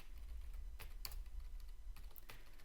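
Typing on a computer keyboard: a quiet run of irregular key clicks over a low background hum, with no one speaking.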